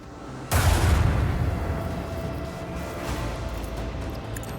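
A dorsal cannon fires at an enemy ship in the video game Rogue Trader: one sudden, loud, heavy boom that rolls on into a long, rumbling decay.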